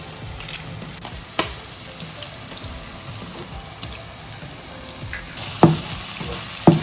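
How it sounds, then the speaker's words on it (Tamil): Beaten egg stirred and fried in a pan for a quick chapati side dish gives a faint, steady sizzle, broken by a few sharp scraping taps of the spoon against the pan. "இந்த எக்கு உடச்சி ஊற்றிட்டு இதோட அப்படியே மிக்ஸ் பண்ணி எக் பொரியல் பண்ணுவோம்"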